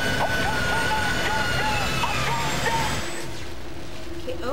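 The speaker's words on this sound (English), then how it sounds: "Is that the chopper? Yeah, that's the chopper." A helicopter in the video game F.E.A.R. 3 gives a loud, steady rotor and engine rumble that drops away near the end, with voices over it.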